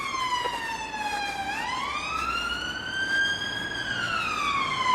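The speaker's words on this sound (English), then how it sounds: "there was an ambulance went past then" An ambulance siren wails continuously as it passes, its pitch sweeping down and up in long smooth cycles, fairly loud and steady, with no voices over it.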